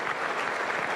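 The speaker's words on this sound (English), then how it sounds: "the crowd that have been so generous in their support of everything that's happened stand and applaud" A packed cricket crowd stands and applauds a century at Adelaide in the 2006-07 Ashes, a thick, even wash of clapping lasting the whole moment.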